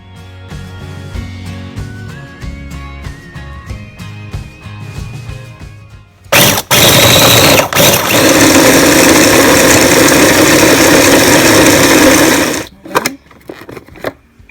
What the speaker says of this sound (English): After you blend it up in the food processor, it may be a little moist.